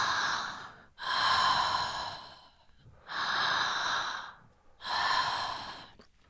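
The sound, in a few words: circular conscious connected breathing through the mouth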